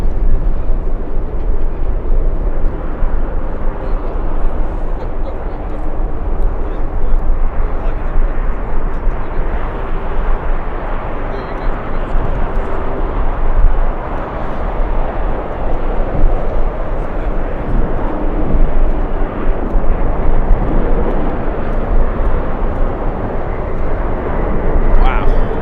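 A Zipair airliner at LAX in strong wind gives a continuous low engine rumble blended with gusty wind noise, steady and fairly loud for the whole stretch, with a voice talking over it.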